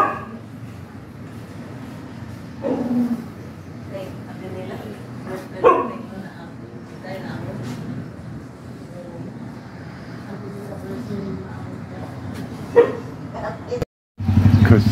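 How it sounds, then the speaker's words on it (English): A dog in a Philippine barangay alley gives a few short barks and yips in the morning, moderately close, spread between a person's talking and background street noise. "The dog barks to greet me in the morning."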